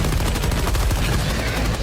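Rapid, loud, continuous gunfire from the video game Helldivers 2 rattles out in a dense automatic stream, aimed at an enemy's left leg.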